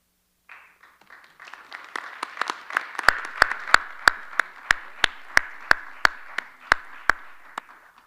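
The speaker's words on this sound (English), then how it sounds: "might be the first ever round of applause for a budget presentation in public school history" A round of applause at a public school board of education meeting, with several people clapping in a room, starting sparse and building to a steady clap that fades near the end.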